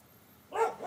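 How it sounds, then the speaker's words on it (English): Dogs bark at the mailman, a pair of sharp, fairly loud barks arriving in quick succession after a brief quiet stretch, with no talking. "The dogs are barking at the mailman right now"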